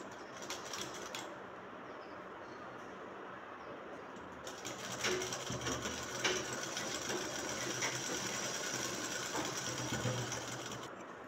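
A sewing machine runs steadily along a shirt sleeve, stitching a quarter-inch fold near the fabric edge; a short burst first, a pause, then a longer continuous close whir.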